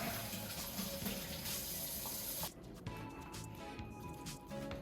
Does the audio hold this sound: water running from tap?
yes